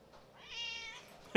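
A pet cat gives a single soft, drawn-out meow in a quiet room. The meow is faint and rises and falls, and a brief sharp knock follows at the end.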